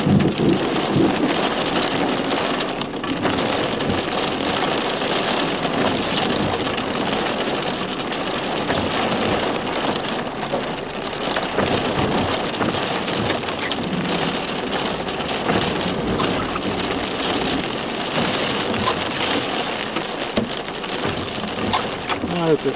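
Hail pouring down in a thunderstorm on the Darling Downs, a dense, steady roar of loud impacts across the whole stretch, with a voice briefly heard through the din.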